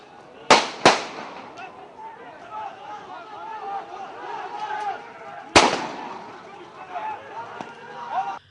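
Sharp gunshots crack out during a brawl at Akdeniz University, two in quick succession near the start and another a few seconds later, over a noisy crowd shouting in the background.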